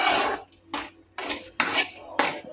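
Cashews and almonds frying in a pan, heard as short bursts of scraping and clattering, like a spoon stirring against the pan, separated by brief quiet gaps.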